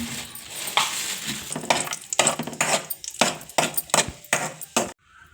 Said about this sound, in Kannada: ಇವಾಗ ತುಪ್ಪದಲ್ಲಿ ಫ್ರೈ ಮಾಡ್ಕೊಳ್ಳೋಣ.